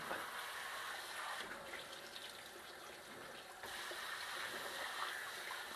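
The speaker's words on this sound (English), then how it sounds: "Just spraying hot water in there." Hot water sprays steadily from a tap, a continuous hissing rush with a brief dip partway through.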